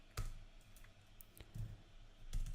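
A few quiet clicks from a computer keyboard as a short numeric value is typed in, sparse and isolated taps spread over a couple of seconds with faint room background.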